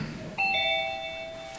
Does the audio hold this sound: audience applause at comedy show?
no